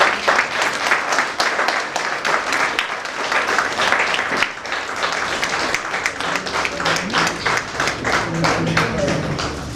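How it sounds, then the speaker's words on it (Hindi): Audience at a book launch claps steadily and densely throughout, a room full of hands applauding with voices talking over it nearby. "जोरदार तालियों से"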